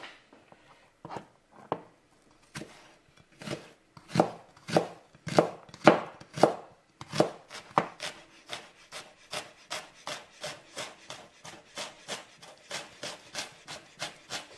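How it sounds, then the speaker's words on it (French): A knife finely chops fresh ginger on a cutting board: a few slow, spaced cuts speed up into a rapid run of crisp, close taps that settles into a lighter, quicker rhythm, with no talking. "Alors le gingembre, on va le hacher assez finement par contre."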